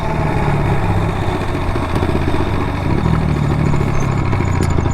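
A Honda Grom motorcycle engine runs steadily while riding, a loud, continuous low drone with a slight clatter, close and alone without talk.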